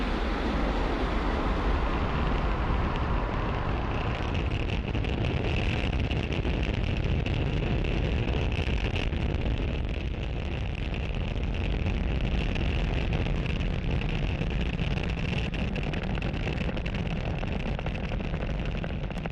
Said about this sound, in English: Falcon 9 has successfully lifted off from pad 40